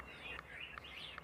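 A white-rumped shama (murai batu) kept for song contests gives short, bright whistled chirps in a quick run, fairly faint over a low background hum.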